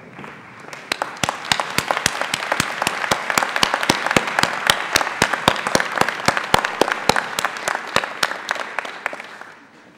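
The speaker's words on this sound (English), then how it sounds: "Classmates, please stand and join me in a round of applause." Applause from medical school graduates standing to honor their faculty at a West Virginia University commencement, rising into loud, steady, rapid clapping from a large crowd that continues throughout.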